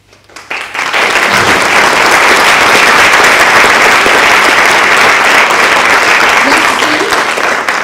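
A congress audience breaks into sustained applause, dense clapping swelling quickly after a quiet start and holding steady and loud to the end.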